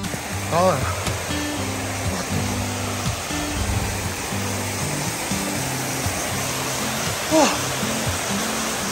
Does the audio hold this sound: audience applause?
no